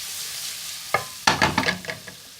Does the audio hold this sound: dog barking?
no